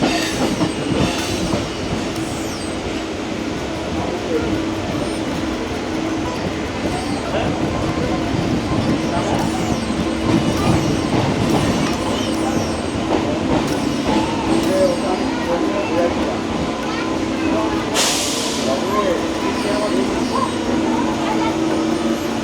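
A local train on the Howrah to Digha line rolls into Uluberia station, a steady close rumble of wheels and carriages with rail clatter and a brief hiss near the end, with a voice talking over it.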